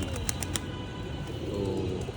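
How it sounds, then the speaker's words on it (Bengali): High flyer pigeons coo softly from a rooftop loft among city buildings, low murmuring calls against steady background hum, with a few faint high chirps, close but quiet and with no talk. "এই যে কিছু হাই ফ্লায়ার কবুতর"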